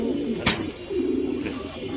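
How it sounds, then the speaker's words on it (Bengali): Pigeons at a pigeon farm in Mirpur, Dhaka, which keeps Damascene breeds and young squabs, give soft, low, rolling coos that run on through most of the moment, with one sharp brief noise near the start. "এখানে কিছু বাচ্চা কবুতর আছে ঘরের"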